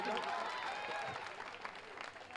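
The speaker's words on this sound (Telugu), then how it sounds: "మీరు క్లాప్స్ కొట్టండి, గట్టిగా పైకి వెళ్తుందో లేదో చూద్దాం." A crowd at a New Year celebration stage show claps together in a dense burst of applause that fades over a couple of seconds, heard from a distance and mixed with crowd noise.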